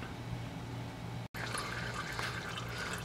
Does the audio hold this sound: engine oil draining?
yes